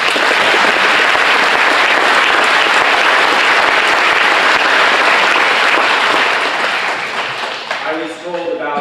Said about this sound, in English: I would first like to start with a round of applause for our 2 music directors